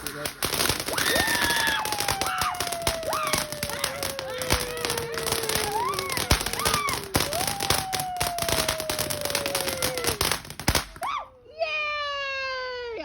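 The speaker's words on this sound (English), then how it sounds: "It's like a free fireworks show up there." Fireworks crackle and explode outside in a loud, dense barrage of sharp pops and crackles, with whistling trails rising and falling through the bursts.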